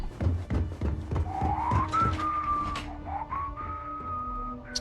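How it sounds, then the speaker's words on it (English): Off-key whistling by a character in the video game Starfield: two drawn-out tuneful phrases that slide upward and then hold, set over low thumping game background noise. "Terrible whistling"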